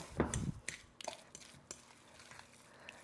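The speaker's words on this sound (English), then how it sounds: "you're gonna take a fork or clean hands and you're gonna mix the panade with the ground" A fork mixes panade into ground turkey for meatballs, giving close, soft wet stirring and squishing with a few light clicks against the bowl, quiet and without talking.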